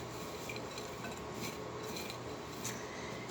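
Shredded potatoes being stirred and mixed with seasonings, including nutritional yeast, for vegan hash browns, giving a steady soft rubbing and scraping in a bowl, quiet and close, with no talk.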